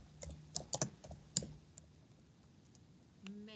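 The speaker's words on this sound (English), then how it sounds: "I was typing." Sharp, irregular clicks of computer keyboard typing in a quiet room, a burst of several keystrokes over the first second and a half, then scattered faint taps, close and moderately quiet.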